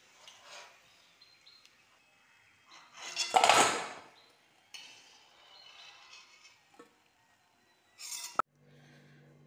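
Fried sugar-coated gaja pieces are lifted from hot oil with a strainer: quiet metallic clinks and rattles, a fuller scraping swish in the middle and a sharp clack near the end, with no talk.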